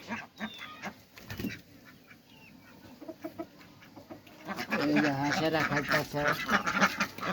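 Ducks and chickens on a poultry farm quack and cluck at feeding time, growing louder and busier toward the end, while people talk nearby.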